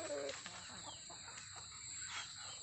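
Black chicken at a small rural poultry pen, clucking faintly in a few short bursts against a quiet farmyard background.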